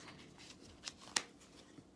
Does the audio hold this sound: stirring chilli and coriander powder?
no